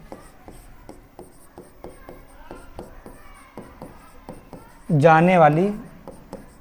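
Chalk tapping and scratching on a classroom board during a Class 6 maths lesson, with a steady series of short strokes. A voice briefly speaks over it near the end.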